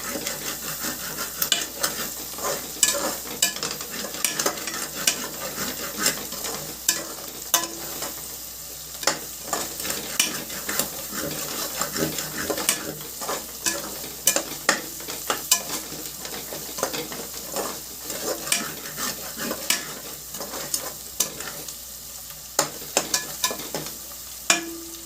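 Boti curry with garlic paste is stirred in a frying pan: a long, dense run of scraping and clattering strokes over a constant sizzle, close and fairly loud throughout.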